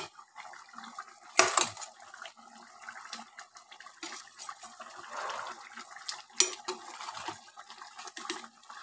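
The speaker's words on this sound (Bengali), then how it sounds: "ভাজা আলুগুলো সব দিয়ে দেবো" Fried potatoes go into a pot of simmering mutton curry, with close metallic clanks of a spoon against the pot, sharp clatters and a soft wet bubbling underneath, irregular and unaccompanied by talk.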